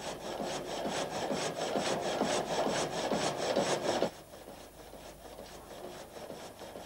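Water-powered sawmill carriage in rural Vaud, Switzerland, driving a blade through a log: loud rhythmic back-and-forth rasping strokes at a steady pace, then abruptly quieter, lighter strokes continuing after the cut eases, with no talk.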